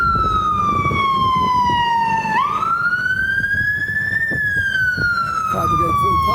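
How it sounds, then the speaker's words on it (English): A loud wailing siren sweeping down and back up in pitch as a fire engine passes close by, with traffic rumble beneath. "Fire brigade coming past. Loud."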